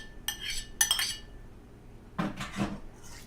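Utensils clink and scrape against a bowl while potato salad with vegetables is mixed, two quick metallic taps followed by a softer scraping stir, close and clear with no voices.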